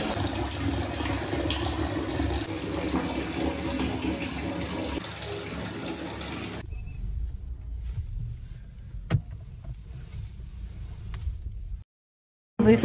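Hot water pours from a tap into a hotel bathtub in a steady, close, splashing rush that stops abruptly partway through, followed by quieter bathroom sounds, a short clunk and a brief silence.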